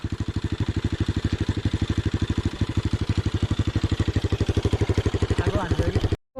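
A modified motorcycle with a handmade silencer idles close by, its exhaust firing in a steady, loud, even pulse that runs unbroken for about six seconds before cutting off abruptly.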